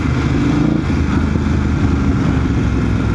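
American muscle car, a Venom, rumbles close by with a continuous loud engine growl, steady throughout with slight rises, heard from alongside on a ride.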